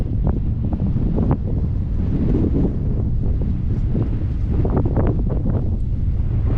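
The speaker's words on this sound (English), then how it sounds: "even though it's windy as hell today." Loud, strong wind buffets the microphone nonstop, with rumbling gusts and brief thumps throughout.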